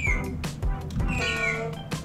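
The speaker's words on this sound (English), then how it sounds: "He's flying because he thinks he's a bird, so he makes bird sounds." Chirpy bird calls used as a game sound effect for a flying character in an AI-made video game, a few short tweets and whistles in a brief burst, close and clear.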